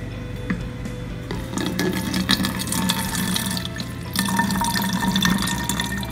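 RODI water pours and splashes into a container, a steady trickle that grows fuller and louder partway through, with no talking.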